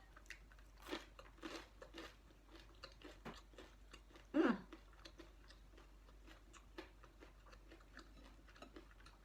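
Crisp fried Vietnamese rice cake with pork being chewed close up, soft irregular crunches and bites with one louder crunch midway, quiet and without talk.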